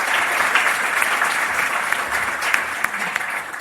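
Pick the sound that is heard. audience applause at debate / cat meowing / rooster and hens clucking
audience applause at debate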